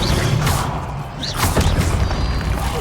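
Incendio fire spell cast in the video game Hogwarts Legacy, a loud roaring burst with crashing impacts and whooshing flares, sustained throughout with a couple of sharper hits partway through.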